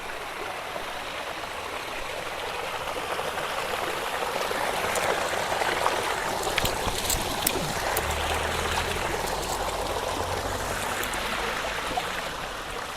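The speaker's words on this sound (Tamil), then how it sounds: "ஒரு சின்ன சின்ன ஃபால்ஸ் மாதிரி, அதாவது இந்த மாதிரி ஓட மாதிரி இருக்கும்" A small waterfall stream flows through deep forest at Manalaru Falls near Achankoil, with a steady close rush of water and a low rumble rising in the latter half, with no voices.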